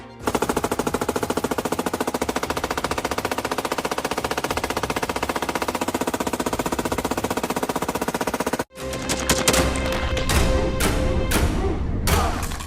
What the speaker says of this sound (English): fires HX-supplied PZD 556 light machine gun manufactured by the Czech company DSS at training ground